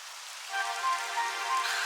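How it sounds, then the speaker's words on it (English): Rain begins falling in the Dragon Quest XI video game, a soft steady hiss of drops that swells slightly after a brief quieter start. "It would have to go and start raining, wouldn't it?"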